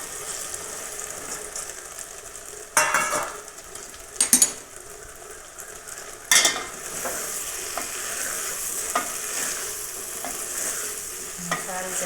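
Potatoes sizzle steadily in a pan for a new-style desi potato sabzi, with several sharp scraping stirs cutting through the constant frying hiss near the mic.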